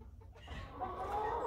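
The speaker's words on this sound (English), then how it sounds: "The ducks now have full feather, and you can hear their quacking." Young, full-feathered ducks in a barn give a short burst of nasal calling, close and fairly soft, with no talking over it.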